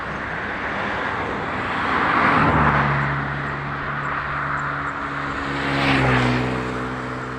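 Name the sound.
rice combine harvester working in a distant paddy field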